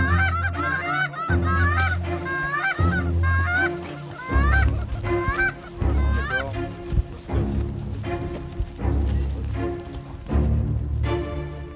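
Geese honk loudly and repeatedly in a dense chorus during a waterfowl hunt, the calls overlapping in rapid bursts throughout with no pauses.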